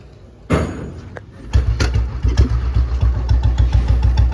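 A restored 2009 Royal Enfield Bullet motorcycle gives a soft click and knock, then fires up and settles into a loud, close idle with a steady, even thumping beat and no voices over it.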